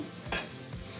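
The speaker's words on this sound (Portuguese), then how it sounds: "E vamos misturar aí, continuar misturando" A spoon stirs a sachet of tomato sauce into ground meat frying in a pan for bolognese pasta, a brief scrape over steady sizzling, close and fairly loud.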